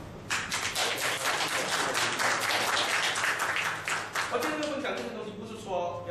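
Church audience in a sermon setting breaks into dense, loud applause that builds and holds for several seconds, then thins out as speech resumes over the fading claps.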